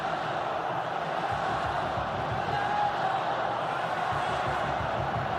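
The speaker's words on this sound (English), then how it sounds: "That got the crowd going from Wesley." A large stadium crowd at the Saudi Super Cup football final keeps up a steady, distant roar of cheering throughout, an even wash of noise with no sharp peaks.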